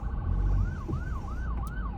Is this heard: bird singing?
no